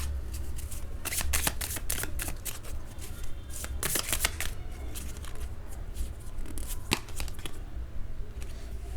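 Tarot cards are shuffled and drawn in rapid, papery riffling bursts and snaps, fairly close and crisp, with no voices.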